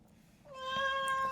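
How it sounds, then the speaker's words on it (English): A house cat meows once, a drawn-out rising cry heard close and alone in a quiet room. "my cat just woke up and she loves to be part of the reading"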